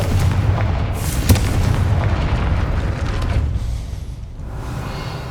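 Confringo fire spell cast in Hogwarts Legacy, a deep booming blast with a rumbling fiery burst, sustained and loud before slowly fading out.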